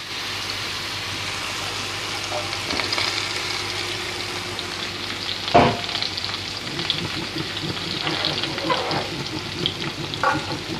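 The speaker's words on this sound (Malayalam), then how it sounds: "അപ്പോൾ ഇതിൽ എണ്ണ ചൂടായിട്ടുണ്ട്. അപ്പോൾ നമുക്കിതിൽ ഇത് ഇട്ട് കൊടുക്കാം." Food dropped into hot oil in a frying pan for a roast dish, giving a steady crackling sizzle throughout with a sharp burst of spitting midway and scattered pops afterward, close and fairly loud with no voices.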